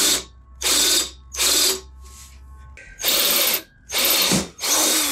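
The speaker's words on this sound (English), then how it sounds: "I can just poke the drill through, pilot the holes over there, and then drill them to size at my leisure" Power drill boring holes for engine mounting, several loud bursts of whining, grinding drilling separated by short pauses, close and alone.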